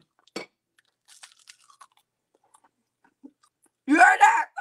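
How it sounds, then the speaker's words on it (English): Faint crunchy chewing of fried jackfruit fritters scattered through near silence, then a short burst of a voice or moan at the end. "Listen to the crunch."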